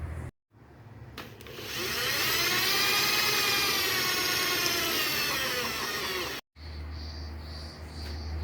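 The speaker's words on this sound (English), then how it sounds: "I'm going to have a crack at drilling it from both sides and see how I go." A power drill bores into a stuck, corroded bolt on a Royal Enfield 500 Model J motorcycle of 80 years or more, whining up and grinding steadily for several seconds, stopping briefly, then starting again close by.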